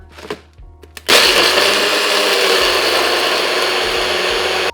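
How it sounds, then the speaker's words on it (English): A blender loudly grinds ice with rum, lime, sugar and strawberries for a strawberry cocktail, a steady harsh roar that starts abruptly after a second of quiet clinking and holds to the end. "A little bit of ice, and give it a blend."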